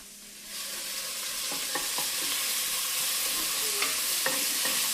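Onion and garlic cooking in a pot for black bean soup start to sizzle after a brief quiet moment, then a spoon stirs them with scattered scraping knocks over a steady close hiss, with no talking.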